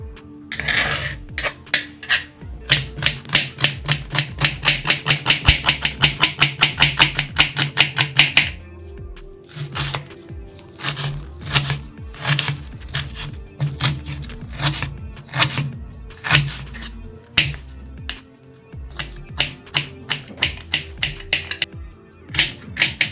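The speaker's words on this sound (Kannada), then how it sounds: "ನೋಡಿ ಈರುಳ್ಳಿ ಈ ಥರ ಇರಬೇಕು ಇಷ್ಟು ಚಿಕ್ಕದಾಗಿ ಹೆಚ್ಕೋಬೇಕು ನಾವು" A knife finely chopping onion on a board, a fast run of crisp, evenly spaced taps, then slower irregular chops with short pauses, close and loud, no voices.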